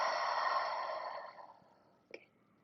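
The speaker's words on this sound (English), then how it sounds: "let's find an inhale breath through the nose and a soft exhale through the mouth out." A soft, breathy exhale through the mouth fades out slowly after a nasal inhale, followed by a brief faint sniff, close and quiet with no talking.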